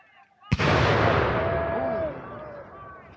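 A musket volley fires at a Revolutionary War reenactment of the Battle of Eutaw Springs. A single loud, sharp blast rolls into a long booming echo outdoors, and voices call faintly around it.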